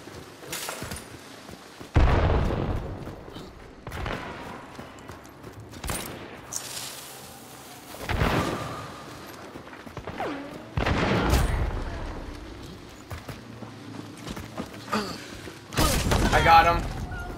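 Scattered gunshots and heavy booms in a Hunt: Showdown match, separate loud blasts spaced several seconds apart with quieter gaps between, and a player talking now and then.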